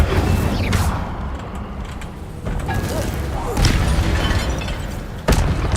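Incendio fire spells in Hogwarts Legacy land as repeated booming thumps and crackling bursts over game combat noise, with several sharp impacts spread across the clip.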